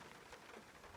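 Rain drumming steadily during a downpour, a dense, even hiss of drops with no voices, fairly faint throughout the short stretch.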